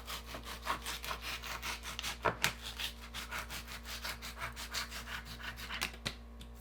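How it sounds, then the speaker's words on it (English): A bread knife sawing off excess insulation foam around a drafty door or window trim: a rapid, even back-and-forth rasping stroke, close and fairly soft, repeating steadily over a low background hum. "Now I need to go and cut off the excess foam"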